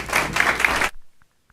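Applause from an audience at a school board of trustees meeting, a dense burst of clapping that stops abruptly after about a second, followed by a few faint knocks.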